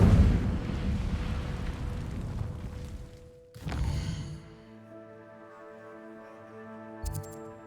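Incendio fire spell cast in Hogwarts Legacy: a dense roaring burst of flame fills the first few seconds, then a sharp whooshing impact follows with a ringing magical shimmer that fades, plus a brief later pop.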